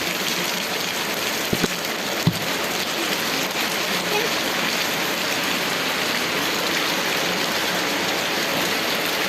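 Sudden afternoon rain pours steadily as children play out in it, a dense, even hiss of drops on surfaces throughout, with a couple of brief knocks early on.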